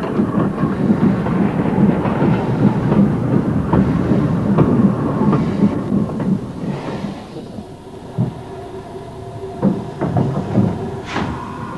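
A heavy narrow gauge freight train rumbles past close by in Yugoslavia in 1962, steady low roar with rhythmic clanking, fading somewhat toward the end with a few sharp knocks.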